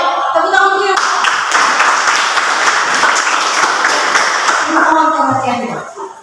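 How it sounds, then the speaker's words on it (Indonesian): Audience applause at a classroom teaching performance, a burst of dense clapping of several seconds that fades as a voice speaks before and after. "Baik, tepuk tangan dulu."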